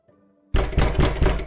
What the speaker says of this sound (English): They don't have to knock so loud. My god, they're gonna break the door.